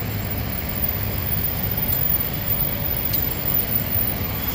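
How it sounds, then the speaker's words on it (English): Heavy trucks roll past on a road near a construction area, a continuous loud low rumble and roar that stays steady throughout without any voices. "Trucks after trucks, passing by, mad noise."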